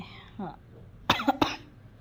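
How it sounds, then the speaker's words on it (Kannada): A few sharp coughs, two or three in quick succession, close up after a brief murmur of a voice. "ಸಿಕ್ಕಾಪಟ್ಟೆ ಕೆಮ್ಮು ಜಾಸ್ತಿ ಆಗಿದೆ"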